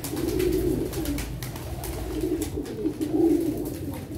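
Teddy pigeons coo in low, rolling bursts that repeat steadily throughout, close and fairly loud, with no talking.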